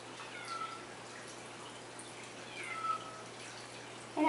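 A small cat meows faintly twice in a quiet indoor room, soft and somewhat distant over a low steady hum.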